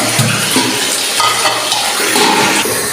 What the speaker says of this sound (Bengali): আর এখানে শাক পেঁয়াজ ভাজা হইতেছে